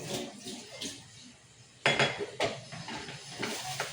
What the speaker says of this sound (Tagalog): Hugasan muna natin bago natin ilagay sa